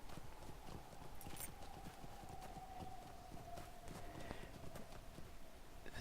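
Video game horse hooves clip-clop steadily at a quick trot, soft and a little distant, under a faint whistling tone and without voices.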